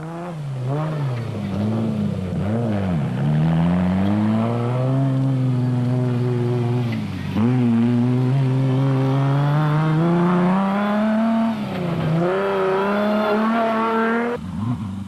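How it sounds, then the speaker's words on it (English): A Toyota Hilux rally car engine races loudly at an African rally event, revving up and down through repeated gear changes with rising, falling pitch sweeps as it passes close by. "Cronje and Birkin in the Toyota Hilux were in control"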